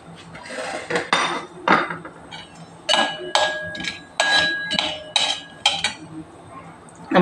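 Peanuts being dry-roasted in a pan are stirred with a metal utensil, giving sharp scraping clinks and taps in irregular bursts, close and fairly loud.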